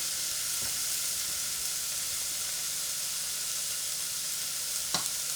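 Chopped onions with cumin fry in a pan with a steady, even sizzle and hiss. One or two brief clicks of stirring come through, and no one speaks.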